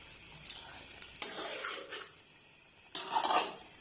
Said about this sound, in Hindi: अब मैं मलाई को मिक्स कर लूंगी